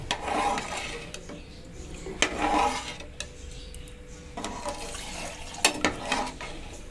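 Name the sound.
pouring coconut milk into a pot for ghee rice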